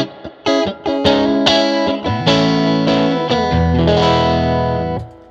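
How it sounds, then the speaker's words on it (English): An electric guitar runs through a Fender Princeton Reverb amp driven into distortion, with loud, sustained gritty chords struck one after another and left ringing, with no talking. "That's real amp distortion."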